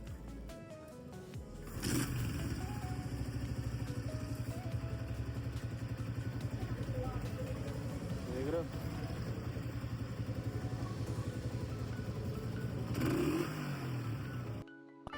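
A Suzuki CG125 motorcycle engine runs steadily throughout, rumbling at idle with a few rises in revs, while someone speaks briefly over it.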